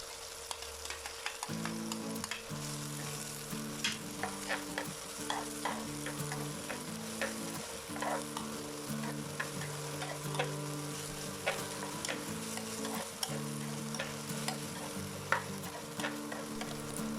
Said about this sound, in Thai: เราจะนำตัว พริก สดนะคะ แล้วก็หอมกระเทียมลงไปผัดให้หอมให้สุกเลยค่ะ